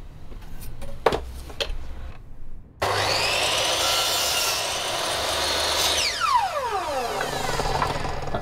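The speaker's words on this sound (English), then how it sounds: "this is my trusty mitre saw. So I'm going to set the angle of the saw to do a 45-degree cut." A mitre saw angled for a 45-degree cut on a piece for a canvas frame: a few light taps, then the motor roars up loud and steady through the cut and winds down with a falling whine.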